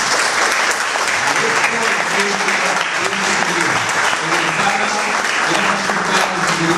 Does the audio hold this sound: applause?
yes